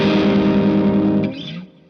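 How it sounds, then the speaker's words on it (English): A Fender American Vintage II '66 Jazzmaster plays a chord through a distortion pedal, heard as a loud, sustained, buzzing chord that rings alone for over a second before cutting off. "when I'm playing this with the distortion pedal on"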